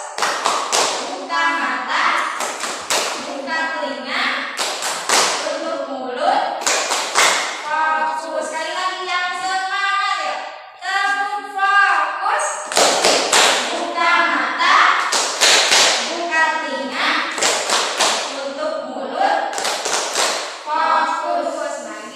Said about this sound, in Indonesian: Coba kita tepuk fokus dulu.